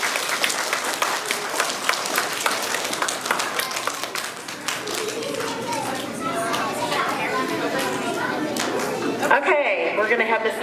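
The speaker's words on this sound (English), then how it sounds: "Let's give them a big round of applause" Children and adults clapping at an elementary school February awards assembly, sharp individual claps giving way to a looser patter with chatter and voices rising underneath, and a speaker talking near the end.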